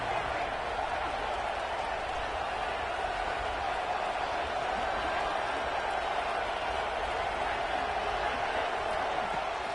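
Dense, steady crowd roar fills a college football stadium during a big third down in a Duke versus Purdue game, sustained and loud for the whole stretch with no clear breaks.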